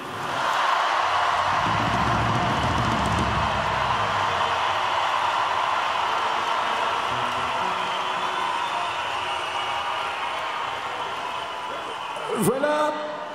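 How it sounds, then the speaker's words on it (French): A large crowd claps and cheers steadily for a bishop finishing his term at a diocesan gathering. The wash of applause holds at a constant level, with a brief sharp sound near the end. "on peut l'applaudir"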